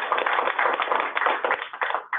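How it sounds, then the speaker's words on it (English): Brief clapping from a small audience thanking the speakers at a municipal water-quality workshop, a close, band-limited patter of claps with uneven bursts. "a round of applause for our speakers"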